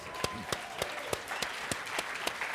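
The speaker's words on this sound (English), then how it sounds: "Jesus, give him a round of applause." Steady applause from a seminar audience, with a few sharper claps standing out in a rhythmic pattern above the wash of clapping.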